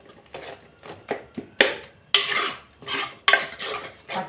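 Ground masala paste is stirred in a pan for a mutton kulambu. A spoon scrapes and clinks against the metal in a string of uneven, close strokes, with faint sizzling between them.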